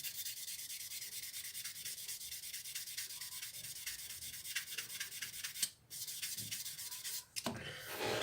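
Steady, close rubbing of a sanding sponge on a scale model of a Mitsubishi Zero in quick repeated back-and-forth strokes, briefly pausing twice near the end.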